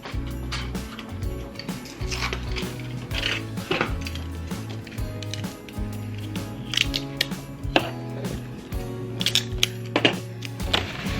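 Scissors slicing through gift wrapping paper, with repeated crisp snips and papery rustles and crinkles close by, irregular in rhythm, along with light handling clatter.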